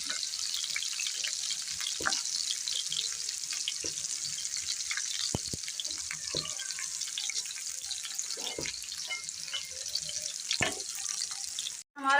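Okra slices fry in hot oil in a pan, giving a constant bright, crackling sizzle close up, dotted with sharp pops and occasional clinks of a utensil.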